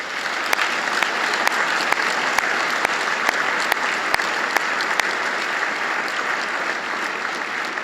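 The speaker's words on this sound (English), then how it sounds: "Let's give all of these faculty a round of applause." An audience at a university State of the University address applauds faculty, a steady, even crackle of many hands clapping with a few sharp louder claps standing out, sustained throughout.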